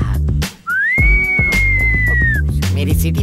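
A person whistles one long, steady, high note that rises slightly at the start and holds for nearly two seconds before trailing off, over loud rhythmic background music.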